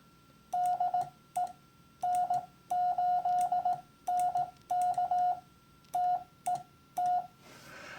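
Morse code CW sent by hand as a steady single-pitch tone, in short and long beeps grouped into several letters with gaps between, spelling DE and a call sign over faint background hiss.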